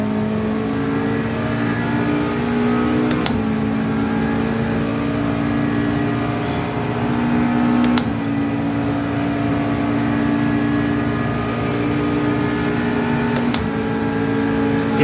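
Porsche 963 race car engine in the video game Automobilista 2 at Daytona, a steady loud droning hum held at high revs throughout, with three brief sharp blips spaced several seconds apart.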